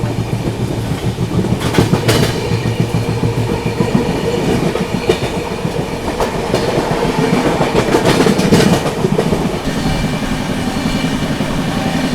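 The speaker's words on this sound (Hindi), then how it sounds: "यहाँ पर अपनी ब्रह्मपुत्र मेल ने स्किप कर दिया है गोविंदपुरी रेलवे स्टेशन को।" The Brahmaputra Mail express train runs through Govindpuri railway station without stopping, with a loud steady rumble and rapid clickety-clack of wheels over the rails, close and continuous throughout.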